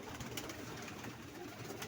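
Soft pigeon cooing in a steady, continuous murmur, close and fairly even in loudness, with no voices over it.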